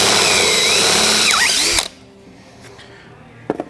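A power drill with a 1/2 inch bit enlarges a pilot hole in a vehicle frame, whining loud and close with a falling pitch, then stops abruptly, leaving faint clicks and a sharp rattle.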